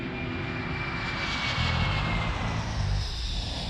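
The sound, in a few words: Aeroflot Flight 593 airliner taking off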